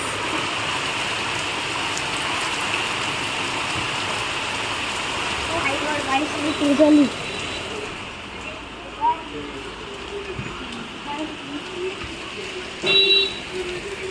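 Heavy rain pours down steadily after raining since morning, a dense continuous hiss with a few soft thumps and knocks.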